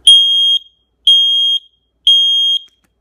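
A Nest smoke and carbon monoxide detector sounds its test alarm: three loud, piercing, evenly spaced high-pitched beeps, each about half a second long, with silence in between.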